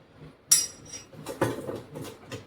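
A spoon clinks against dishes in a home kitchen while thalipeeth is being made, giving a few sharp metallic knocks and scrapes spaced irregularly, close up with no speech.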